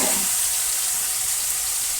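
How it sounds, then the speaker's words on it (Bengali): Eggplant slices frying in hot oil in a village kitchen, a steady, close, loud sizzle that crackles continuously without any talk. "বেগুন ভাজা এগুলো তেলটা ভাজো"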